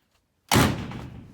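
A dented door panel on an old International Loadstar truck is pushed out from inside, giving one sudden loud metallic pop and thump after silence, then a short fading rattle.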